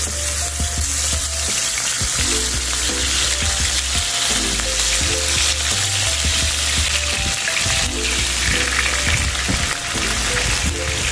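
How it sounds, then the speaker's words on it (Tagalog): Boneless pork chops sizzle and fry steadily in a pan, a loud, continuous crackle with occasional stirring clatter and no voices. "lalagay na natin yung ating mga pork chop. Ito po yung ating pork chop na walang buto"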